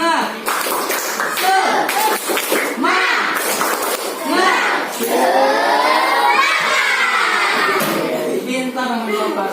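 Schoolchildren in an Indonesian classroom chant and clap the 'tepuk semangat' rhythm, loud overlapping young voices shouting together with bursts of clapping, close and lively throughout.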